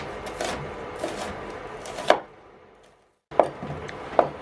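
A kitchen knife chops onion for onion soup on a cutting board, with rapid crisp taps in quick clusters, a short pause, then more sharp strikes up close.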